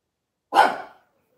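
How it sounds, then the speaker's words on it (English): A single short, close bark or huff from Pugsley the dog, sharp at onset and trailing off quickly, alone in otherwise near silence indoors. "Control the dog"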